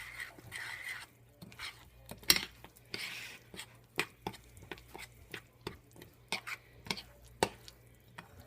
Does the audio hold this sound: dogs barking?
no